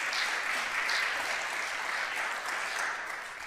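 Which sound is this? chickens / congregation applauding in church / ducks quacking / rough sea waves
congregation applauding in church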